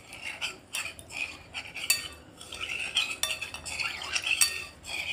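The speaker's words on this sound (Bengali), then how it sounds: "ঠান্ডা উপকরণ দিয়ে ভালো করে দুধের সাথে কর্নফ্লাওয়ারটা মাখিয়ে নেব" A spoon stirs cornflour into cold milk in a bowl, giving quick irregular scraping and clinking strokes against the dish, close and fairly soft, with no talking.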